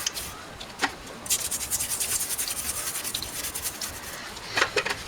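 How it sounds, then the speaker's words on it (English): A bench wire wheel scrubbing varnish off a motorcycle carburetor needle from a Honda CM400T that sat for 19 years, a close, steady raspy brushing with a few sharper scratchy bursts, no talk. "Pop it with the wire wheel."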